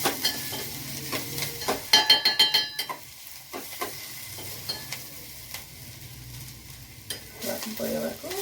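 Vegetables frying in a little oil in a pan, a soft steady sizzle broken by repeated spoon stirs and scrapes, with a quick run of metal clinks, heard up close.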